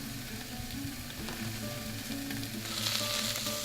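Spinach and seasonings fry in a hot pan with a constant close sizzle while being stirred, with soft scraping and shuffling in the mix and no talking.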